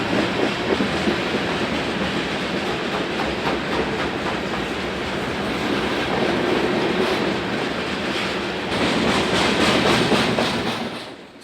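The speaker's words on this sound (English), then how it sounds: "unit sand trains like this one have become a very common sight in Chicago" A BNSF unit sand train of loaded hopper cars rolls past close by, a loud steady rumble with rhythmic wheel clatter that swells toward the end before quickly dropping away.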